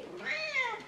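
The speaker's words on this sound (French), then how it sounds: "Il y a un petit chat." A small cat lets out a single short, clear meow, rising then falling, close by and fairly quiet, heard indoors with no talk over it.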